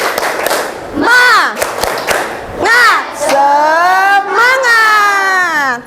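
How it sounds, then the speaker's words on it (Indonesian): A school class in an Indonesian lesson does the spirit clap, a few sharp claps followed by loud, drawn-out unison chanting from many young voices in bursts. "kita tepuk semangat dulu yuk"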